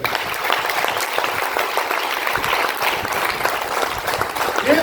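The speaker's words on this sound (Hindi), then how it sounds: "कृष्णा सर के लिए वो जोरदार घुमा के ताली होनी चाहिए" A crowd at a business seminar gives rousing applause for a speaker, a dense, loud, continuous clatter of many clapping hands that runs unbroken for several seconds.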